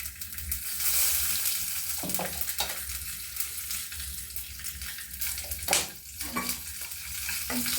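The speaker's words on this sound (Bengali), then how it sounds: "আমি কালো জিরে ফোড়ন দেবো, আর একটু কাঁচা লঙ্কা দেবো" Black cumin seeds and green chili fry in hot oil, giving a loud, busy sizzle with scraping and stirring sounds from a utensil, briefly quieter and then building again.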